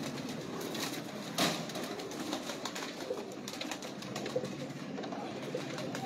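A pigeon coos softly from a perch nearby, steady low murmuring over light outdoor ambience with one brief louder rustle early on.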